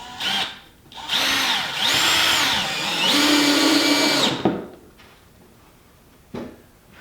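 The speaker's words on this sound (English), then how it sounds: "let's drive a couple of these. This is the drill driver with a star bit in it" A DeWalt 20-volt drill driver with a Torx bit whirs steadily for about three seconds, its motor pitch dipping and rising as a screw is driven in, then stops, followed by a few faint clicks.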